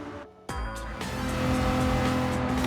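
Race cars roar off the line at the start of a Gran Turismo 7 race, a quiet lead-in broken by a sudden loud burst of engines and tire noise that builds into a sustained, dense revving pack with no talk.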